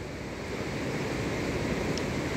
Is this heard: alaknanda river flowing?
yes